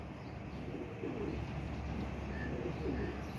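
A pigeon coos in soft, low, repeated calls, fairly close, over a steady background hum with no talking.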